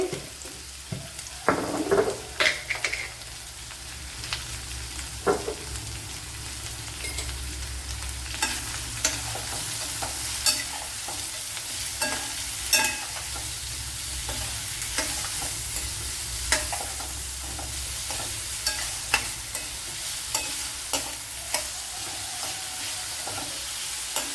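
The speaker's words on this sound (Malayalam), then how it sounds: "അതുപോലെ രണ്ട് മീഡിയം സൈസ് സവാള ഉപ്പിട്ട് കൊടുക്കാം" Two medium onions sautéing with salt in a pan, a continuous bright sizzle with scattered scraping stirs and occasional knocks of a spoon, close and steady throughout.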